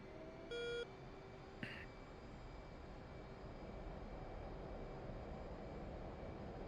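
A jet engine in the DCS flight simulator throttles up: a steady, faint broadband roar that swells slightly over several seconds, with a short electronic cockpit beep near the start and a brief click.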